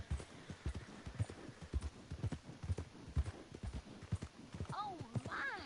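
Horse hooves clip-clop at a steady walking pace in Red Dead Redemption 2, near and rhythmic, with a voice talking over them and a brief whinny near the end.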